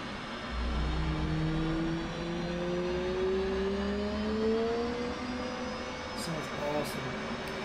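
An F/A-18C jet engine spooling up at startup in the DCS World flight simulator, a rising whine and hum building steadily over a low rumble, with a person talking over it.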